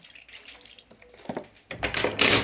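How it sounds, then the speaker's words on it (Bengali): Water is poured from a tap or jug into a pan of small fish being cooked in a home kitchen, a short running splash that builds louder toward the end, with no talking. "আর হচ্ছে হালকা পরিমাণ মতন জল দেবো, বেশি জল দেবো না"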